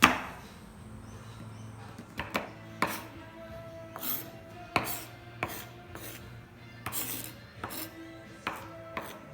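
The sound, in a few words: knife chopping chocolate for chocolate hot cross buns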